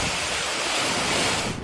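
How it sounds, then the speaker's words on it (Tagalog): Strong typhoon winds of Typhoon Aghon roar through coconut trees in Sariaya, Quezon, a loud, continuous rushing gust with heavy buffeting across the whole stretch. "Tila sumasayaw sa ihip ng hangin ang mga puno ng niyog sa Sariaya, Quezon sa pananalasa ng bagyong Aghon."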